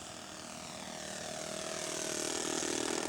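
An RC scale model Sopwith biplane at a large radio-control air show makes a slow flyby, its small propeller engine a steady buzzing drone that grows gradually louder as it approaches, with no talk over it.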